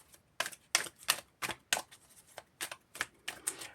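Tarot or oracle cards are cut and laid out in a spread of nine, with a string of sharp, close slaps and flicks of card stock at an uneven rhythm and no talking.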